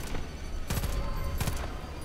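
Gunfire from weapons in a video game: several sharp bursts of rapid shots in close succession over a noisy background, each burst short and punchy.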